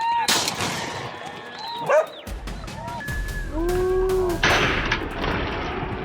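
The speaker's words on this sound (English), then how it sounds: "a sharp, controlled shot ended the threat and kept the area under full control" A single sharp gunshot fired at a wild boar on farmland cracks out early, while dogs bark, yip and whimper nearby throughout, with faint voices in the mix.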